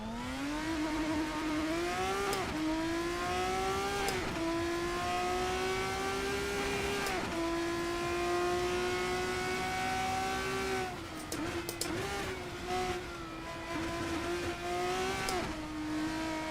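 LMP3 race car engine in a racing video game, a loud steady drone that rises and falls through repeated gear shifts, with sharp revving surges and occasional tire squeals.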